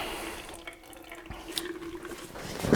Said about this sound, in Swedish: nu får den här stå och droppa ur lite här i burken